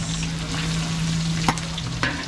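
Garlic and onion sautéing for pancit at a catering cookout in Masantol, Pampanga, a loud continuous sizzle with a low hum and a couple of sharp utensil clinks.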